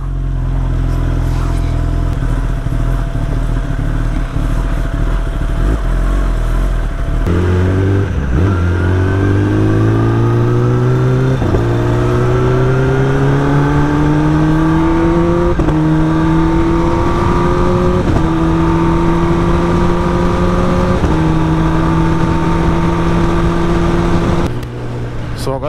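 A Kawasaki ZX-10R motorcycle ridden on a rough diverted road toward Siliguri, engine loud and close, droning, then climbing through gears with rising pitch sweeps, with a rider speaking over it.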